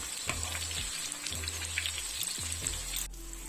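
Eggplant fries in hot oil with a steady crackling sizzle, while occasional low scraping sounds from stirring rise and fall beneath it.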